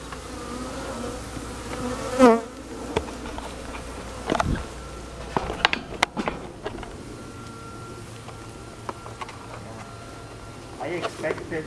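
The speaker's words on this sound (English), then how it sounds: "I'm going to shake these bees into the box" A honeybee swarm buzzes steadily while being shaken into a box, with scattered knocks and thumps from handling and some faint voices.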